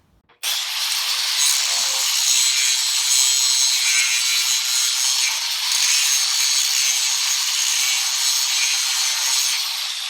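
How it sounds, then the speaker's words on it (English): An angle grinder with a thick grinding wheel works against metal in a sustained, bright, hissing grind that starts abruptly and holds steady and loud for about ten seconds. "You want to kind of grind it down with the thick surface of the grinding wheel."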